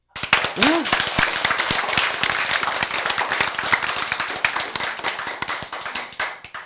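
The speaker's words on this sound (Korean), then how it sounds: "박수." An audience breaks into steady, loud applause at a spiritual lecture, a dense clatter of many hands that holds for several seconds before tapering off.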